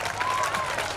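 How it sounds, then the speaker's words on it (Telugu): A school gathering applauds a student who earned a third-rank score. The clapping is a brief, dense burst lasting about a second. "చప్పట్లు."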